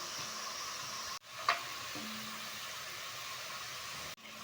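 Potatoes deep-frying in hot oil over a high flame, a steady broadband sizzle and hiss that holds constant, with a couple of brief clicks and a short low tone midway.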